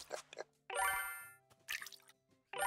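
In the farming game Big Farm Story, crops are watered with soft watery plops and drips, mixed with bright chiming ding tones that ring out and fade between short bursts, all quiet and without talk.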